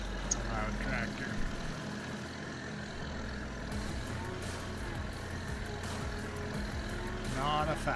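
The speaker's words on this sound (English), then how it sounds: "It's a loud tractor." A vintage inline four-cylinder tractor engine in Farming Simulator 22 runs loud and steady for the whole stretch, a low continuous drone with no break.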